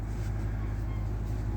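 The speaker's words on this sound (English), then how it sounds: "You hear the diesels humming." A diesel train engine hums steadily in the background near an outdoor patio, a low continuous drone that holds through the whole stretch with a faint hiss above it.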